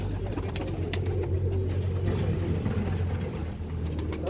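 Pigeons at a large pigeon farm in Latur, Maharashtra coo in low, repeated throaty calls close by, over a steady background hum with occasional faint clicks.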